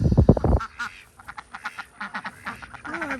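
Baby ducklings quack in a loud, busy burst at the start, then keep up a string of short, fairly close peeping quacks outdoors by garden beds.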